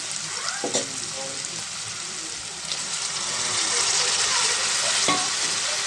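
Onions and tomatoes sizzle steadily in a hot pan for a Telugu curry, a continuous bright frying hiss with a few stirring scrapes that grows slightly louder toward the end.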